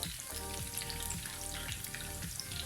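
Chicken mince cooking in hot oil in a pan, a continuous soft sizzle and crackle with periodic scraping strokes as it is stirred, under faint background hum.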